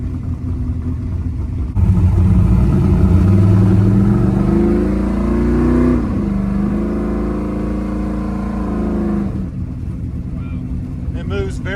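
An all-motor 1955 Chevy drag car accelerates hard, its engine note climbing through a deep, loud roar heard from inside the car, and voices talk over it.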